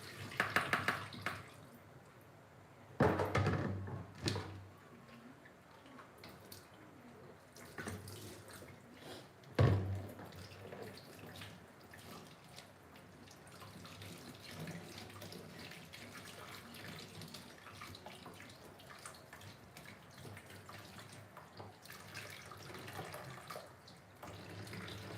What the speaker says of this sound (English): Let's sieve out the water.